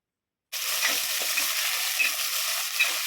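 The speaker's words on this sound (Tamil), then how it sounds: "நெக்ஸ்ட்டு நம்ம தக்காளி ஆட் பண்ணி நல்லா வதங்கி வச்சுக்கலாம்" Onions and tomatoes sautéing in a pan for a village-style crab curry, a sudden steady sizzle starting after a moment of silence, with occasional stirring scrapes and pops close up.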